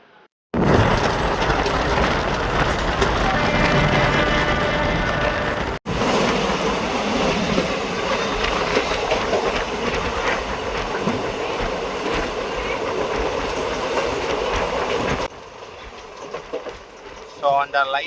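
The Kamban Express passenger train runs on rails after leaving Nagapattinam Junction, giving a loud, close, continuous rumble with rhythmic wheel clatter and mechanical rattling, while voices are faintly present.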